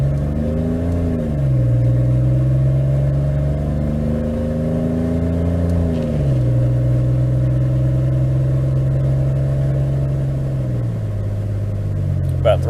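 A GMC Safari AWD van running with no muffler revs hard from a stop at a light, its raw exhaust rising and falling in pitch over several throttle swells before settling into a steady drone.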